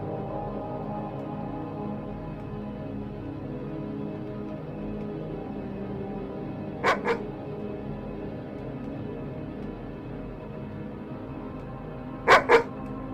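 A dog barks twice in quick pairs, once around the middle and again near the end, sounding fairly close over a steady low background hum with no talking.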